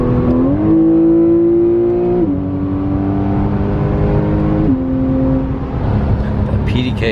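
Porsche 911 Carrera S with PDK and a Shark Werks sport exhaust pulls hard, its loud engine note rising steadily through gear changes with brief dips between shifts, heard from close inside the car.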